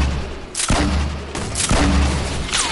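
Grenade launcher rounds explode in a video game firefight, two heavy booming blasts about a second apart with rumbling tails, close and loud over ambient battle noise.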